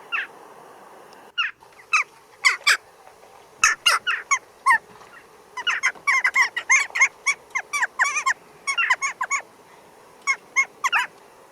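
Western jackdaws, small grey-naped crows with white eyes, give a rapid series of short, sharp calls that come in clustered bursts, fairly close and clear, with no talking.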